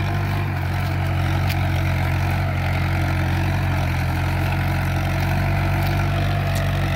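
An old-model Mahindra Sarpanch 475 DI tractor engine runs close by under load, a loud, steady diesel rumble holding constant revs with no talk.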